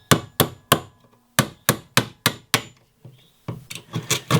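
A chisel is struck against wood while cutting pieces out for a compost toilet in a tiny house, giving about a dozen sharp, close knocks in an uneven rhythm with a short pause midway.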